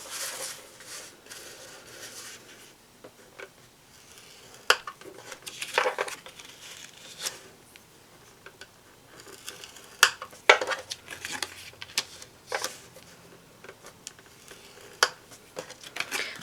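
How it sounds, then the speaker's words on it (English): Navy cardstock being scored in a Simply Scored scoring tool: a run of quiet scraping strokes and light taps, with soft clicks of the board and paper handling spread across the stretch and no talking. "Place that in your Simply Scored scoring tool, and we're going to score it at 3/4 inch on all 4 sides."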